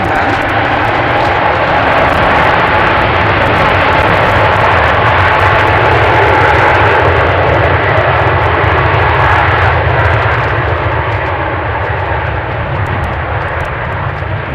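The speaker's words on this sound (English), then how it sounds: "Let's entertain ourselves with another 777 then." A Boeing 777 airliner flying near Amsterdam airport on a windy day, its engines giving a loud, sustained, rumbling roar that stays steady throughout.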